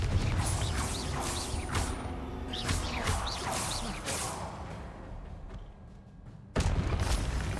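Confringo blasting spell in Hogwarts Legacy, repeated fiery whooshes and bursts over a constant noisy battle bed, ending in a sudden loud blast near the close.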